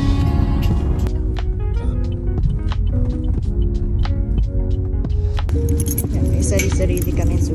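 Keys jangling in a sustained metallic rattle over a steady low hum, loud and close, under a continuous musical or tonal background.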